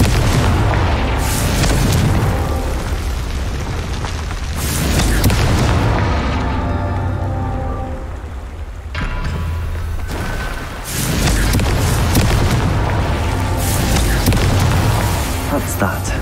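A Confringo spell explosion effect delivers loud, deep booms in several heavy bursts, each rumbling and then fading before the next blast.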